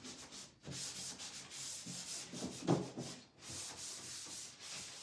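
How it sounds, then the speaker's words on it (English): Hand sanding on a wooden piece of furniture, preparing it for a decorative transfer and top coat: continuous close scratchy rubbing strokes with brief pauses, no voices. "because we are going to put the transfer, we are going to sand"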